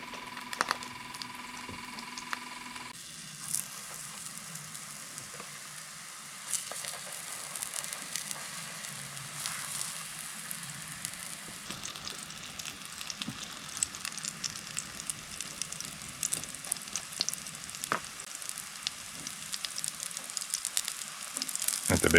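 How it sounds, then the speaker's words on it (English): Pancakes fry in a pan with a steady, close hiss of sizzling batter that grows fuller and rougher over time, after a brief tonal hum at the start, with no voices. "making pancakes"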